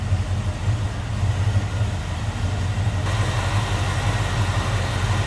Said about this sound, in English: Mild cam, a little bit of a rumble out of it, nothing crazy.